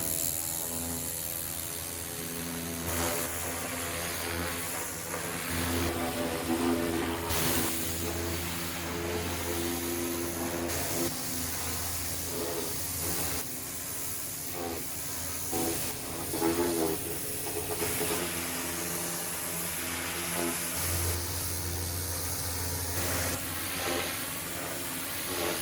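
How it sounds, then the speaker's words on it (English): Pressure washer spraying a Chevy truck: a continuous loud hiss of the water jet with a droning pump underneath, rising and falling as the spray moves across surfaces over a long stretch, no voices. "So I'm gonna pressure wash this thing now for a bit and see how it turns out."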